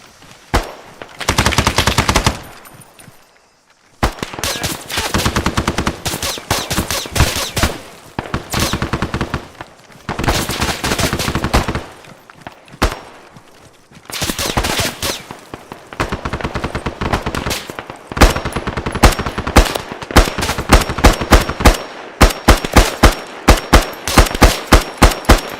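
Automatic gunfire in the military shooter Arma 3: long, loud bursts of rapid fire with short gaps between them, ending in a run of distinct single shots.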